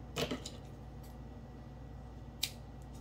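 Scissors snip through crochet yarn string twice, one quick cut near the start and another sharp snip about two seconds later, close and faint in a quiet room.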